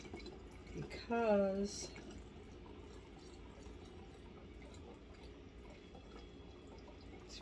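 Peach liqueur trickles through a funnel into a bottle, a faint continuous liquid pour with light dripping, while someone briefly speaks over it near the start.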